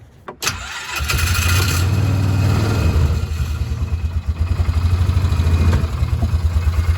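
A Polaris Ranger side-by-side engine cranks and catches after a choke cable repair, then settles into a loud, steady, close-up idle with a rhythmic low pulsing.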